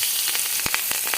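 Capsicum fries in hot oil, giving a loud, close, steady sizzle with a few sharper crackles and pops running through it.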